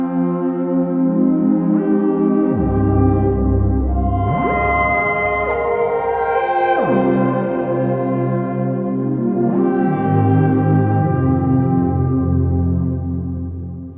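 A lush synth pad built from two slightly detuned layers recreates the Yamaha CS80 Deckard's Dream sound, with swelling, sustained chords that slide between pitches, loud and continuous across the stretch.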